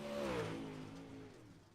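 A modified touring race car engine on a dirt track in a racing video game, revving high and then dropping in pitch as it settles into a fading drone, fairly quiet throughout.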